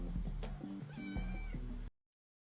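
A pet cat meows repeatedly at close range, a series of clear, tonal calls with rising and falling pitch, ending abruptly in silence.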